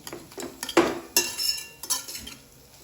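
A lid clatters onto a cooking pot of turmeric-spiced winter vegetable curry, giving a few sharp metallic clanks and clinks close by, with no talking.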